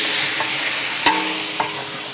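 Tomatoes tipped into a hot pan for chicken gravy, giving a steady close sizzle with a couple of sharp clatters from stirring or the pan, and no talking.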